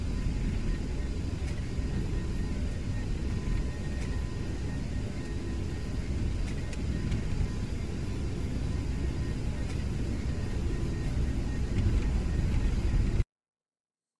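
A Toliss A319 jet's engines roar steadily at takeoff thrust in a flight simulator, a loud broad rumble holding constant before cutting off abruptly near the end.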